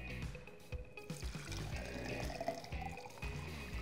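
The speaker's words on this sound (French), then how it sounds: "videz l'eau seule dans un bécher poubelle" Water tipped out of a black-and-white film developing tank into a waste beaker makes a faint, soft pour with gurgles and trickles, steady for a few seconds and heard alone.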